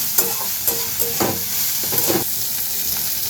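Cauliflower, par-cooked with turmeric, and other vegetables stir-fried in homemade ghee for pink pulao, giving a steady close sizzle broken by several scraping stirs of a spoon in the pan.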